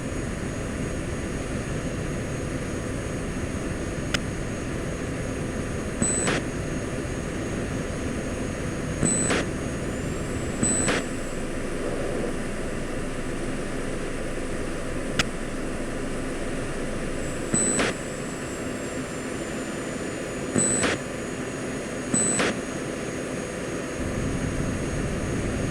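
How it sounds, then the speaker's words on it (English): An F-16-style jet engine in the Falcon BMS flight simulator drones steadily as it is throttled back toward idle, with a constant loud roar broken by a few sharp clicks and brief tones. "See, I'm gonna go all the way back to idle."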